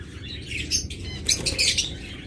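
Pair of creamino opaline birds, non-ringed, chirping in a busy overlapping chatter of high tweets and squawks, fairly close and steady over a low background hum.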